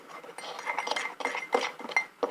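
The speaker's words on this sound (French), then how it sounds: "avec la petite cuillère, on va mélanger" A small spoon stirs mug cake batter of Nesquik, sugar and flour in a mug, making soft scraping and light clinks that come in uneven strokes close by.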